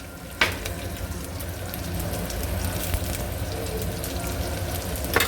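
Ginger garlic paste sizzling and frying in hot oil while aloo barada is being cooked, a steady crackling hiss with a sharp splutter at the start as the paste meets the oil.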